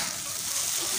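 Seasoned spice paste sizzles and crackles in a frying pan while being stirred during large-batch catering cooking, a close, continuous hiss with soft scraping.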